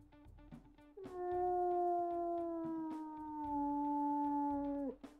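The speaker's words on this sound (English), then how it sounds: "We'll also listen to her howls." A wolf in the WolfQuest video game gives a single long, clear, mournful howl. It starts with a quick rise, holds steady and then drops away at the end, heard alone with no talk over it.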